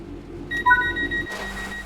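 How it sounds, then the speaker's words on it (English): Warning beep of train doors closing in Train Sim World 5, heard as a short series of steady, clear electronic tones over quiet cab ambience, followed by a soft thud as the doors shut. "Use the Doors Close Right button to close and lock the doors."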